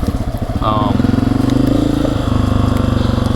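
Honda CRF250F dirt bike engine running steadily with a throbbing, rapid low pulse while riding on a driveway, close and loud throughout.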